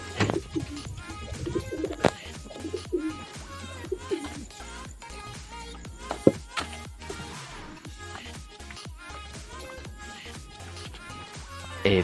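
Pigeons cooing at a racing-pigeon loft, soft repeated low coos mixed with flapping, shuffling and scattered bird calls throughout, with occasional sharp knocks.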